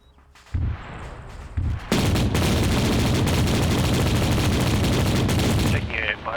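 Sustained heavy gunfire and explosive booms from anti-aircraft fire in a military video game, dense and continuous for several seconds after a few short bursts, loud and close.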